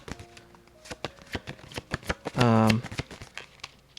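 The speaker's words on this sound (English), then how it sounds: "I'm going to shuffle the minor cards again." Tarot cards shuffled by hand, a run of quick papery riffles and soft flicks close by, with a short burst of louder shuffling partway through, under faint background sound.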